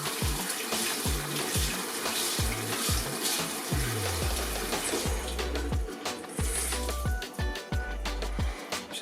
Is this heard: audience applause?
no